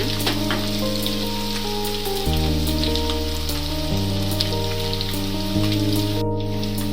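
Three large onions fry in a pan with a steady, dense sizzle that runs throughout, partly under background music.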